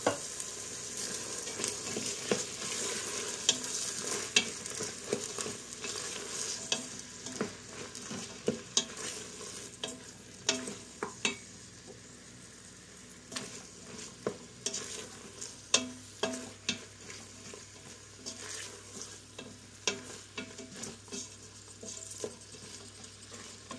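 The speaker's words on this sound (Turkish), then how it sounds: "Fasulyemi koyayım. Şöyle karıştıralım." Dried beans are stirred in a cooking pot, with repeated scraping and clicking strokes over a soft sizzle, close and irregular, with a low steady hum joining near the end.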